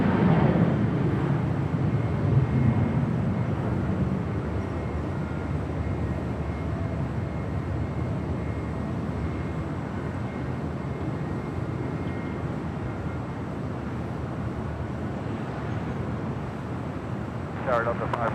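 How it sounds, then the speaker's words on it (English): A FedEx Boeing 767 arriving from Oakland approaches to land at Los Angeles International Airport, its jet engines a broad steady roar with wind buffeting the microphone and a person talking over it. "It's the FedEx 767 coming in from Oakland,"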